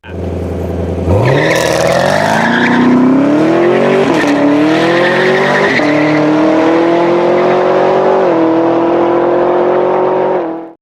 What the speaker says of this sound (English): 2017 Chevrolet Camaro ZL1, 650 horsepower.